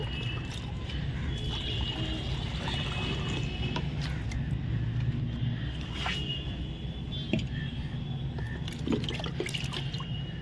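Tap water running steadily into a vessel in a home kitchen while making papdi chaat, a continuous close wash of liquid noise with small splashes and drips.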